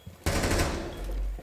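Gunfire in a Ubisoft video game: a single loud, close burst of rapid automatic fire that lasts about a second, after a brief quiet start.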